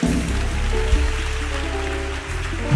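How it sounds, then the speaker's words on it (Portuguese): A church congregation applauds during a sermon, a continuous patter of many hands clapping like steady rain, with a low organ or keyboard tone sustained beneath. "Pode aplaudir a Jesus."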